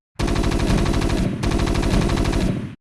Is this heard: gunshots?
yes